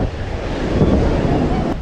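Wind buffeting the microphone during a city ride in Thiruvananthapuram, a steady broadband rumble and roar that runs loud and continuous through the whole moment.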